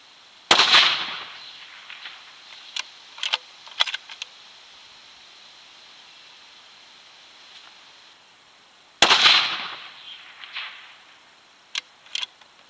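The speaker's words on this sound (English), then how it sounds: "Let's fire a couple of shots and see where we end up." Two sharp, loud rifle shots from a Lithgow LA105 in 6.5 Creedmoor crack out about eight seconds apart, each trailing off in a short echo. Softer clicks and handling noises fall between and after them.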